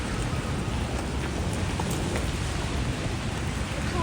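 Steady rain falls in downtown Vancouver, a dense continuous hiss of drops with no breaks, fairly loud and close.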